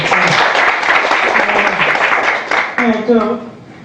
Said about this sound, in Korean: 저 박수 한번 주세요.